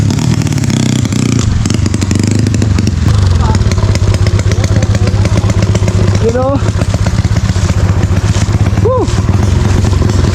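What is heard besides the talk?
enduro motorcycles riding on a muddy trail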